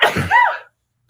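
A single sharp sneeze from a woman indoors, a burst of breathy noise with a rising nasal tone, followed by near silence.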